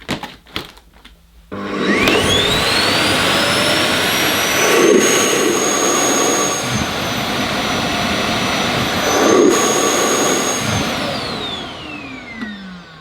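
A Samsung Jet 90 Pro cordless stick vacuum cleaner switches on and runs with a steady, loud high-pitched motor whine and airflow roar, holding for about ten seconds before winding down at the end.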